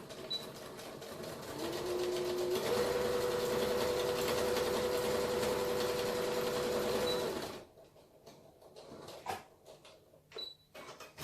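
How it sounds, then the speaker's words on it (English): A sewing machine runs a quick securing stitch along a one-piece fabric face mask with a filter pocket, humming steadily and evenly for several seconds before stopping, followed by a few faint clicks and handling noises. "now I'm just going to do a super quick stitch over it just to secure it all"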